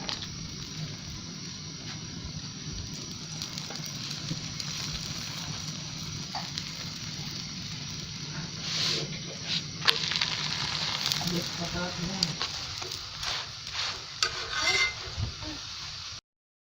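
Spicy chicken lachha paratha frying with oil on a pan, a steady close sizzle throughout with brief stirring and scraping bursts later and faint background sounds.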